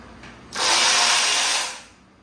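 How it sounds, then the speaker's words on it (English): A Milwaukee Fuel 12 volt third-generation high-speed ratchet running in reverse on a bolt, one loud, steady, high-pitched motor whir lasting about a second before spinning down. "Today I'll be using my Milwaukee Fuel 12 volt 3rd gen high-speed ratchet."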